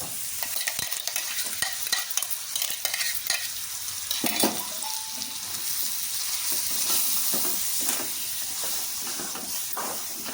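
Tomato puree goes into a pan of frying mutton curry and gets stirred, giving a soft continuous sizzle and hiss. Scraping and stirring clicks from the utensil come through close by, with no talking.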